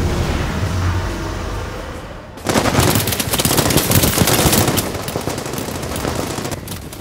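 Massed machine guns strafing in a war film, a dense rolling torrent of rapid gunfire that bursts in suddenly after a quieter dark passage and then roars on loud and continuous, with no voices.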